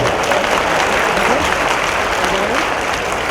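A large audience at a public speaking event breaks into a dense, continuous wash of applause that stays loud and even throughout, with crowd noise blended in.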